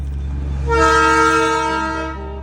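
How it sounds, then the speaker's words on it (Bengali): The Darjeeling toy train sounds a loud, sustained horn blast as it approaches, rising over a low rumble of the engine and fading slightly at the end. "টয় ট্রেন আসছে এখান থেকে,"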